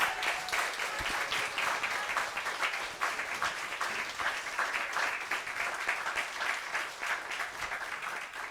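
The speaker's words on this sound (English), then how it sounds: "Can we give them like a louder applause?" A church congregation at a Sunday service gives sustained, loud applause that fills the room evenly from start to finish, with many hands clapping together and no pauses.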